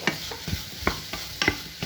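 Onions and peppers with chopped tomato cooking in a pan: soft sizzling under a handful of sharp stirring scrapes and clicks at irregular intervals, close up and fairly quiet.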